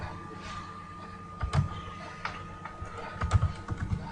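Keys on a computer keyboard are tapped in short, uneven bursts of clicks at close range, set against a steady low electrical hum, with no talking.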